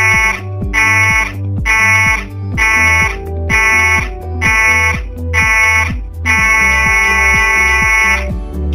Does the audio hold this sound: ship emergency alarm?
yes